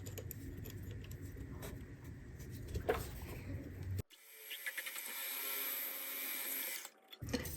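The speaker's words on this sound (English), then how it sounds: "And our regular drill now." A CNC machine drills holes in a brake caliper rotor adapter. A rough grinding cut gives way to a steadier, thinner whir after an abrupt change, then stops near the end.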